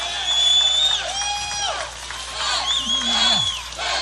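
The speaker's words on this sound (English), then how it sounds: "give yourselves another round of applause for being out here" A rally crowd cheering and clapping, with whoops and shouts rising over a steady wash of applause, loud and lively throughout.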